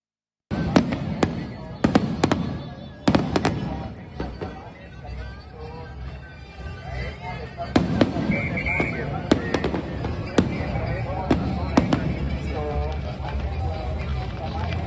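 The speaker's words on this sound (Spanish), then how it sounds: "captamos estos fuegos artificiales tan bonitos, tan padres ahí en las inmediaciones de la Plaza de la Constitución" Fireworks burst over crowds during Grito de Independencia celebrations near the Zócalo (Plaza de la Constitución) in Mexico City, with repeated sharp loud bangs and crackles at irregular intervals above a constant crowd hubbub and street noise.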